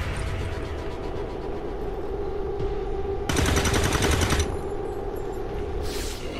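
Gunfire in XCOM 2: steady rapid automatic fire over a dense noisy bed, swelling into a louder, harsher burst midway before settling back, with no speech.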